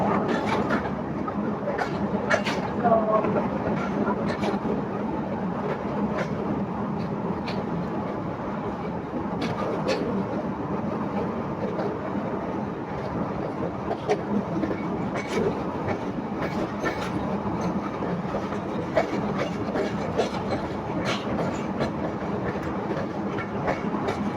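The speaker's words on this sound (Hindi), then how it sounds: "गाड़ी 2 मिनट स्टॉप करके चल पड़ी है पिपला रेलवे स्टेशन से" A train pulling away from Pipla railway station after a two-minute stop rolls along at a steady pace, wheels clacking rhythmically over rail joints with a continuous rumble from inside the carriage.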